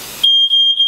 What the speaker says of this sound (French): Il faut que j'arrête le système d'alarme... L'alarme de feu!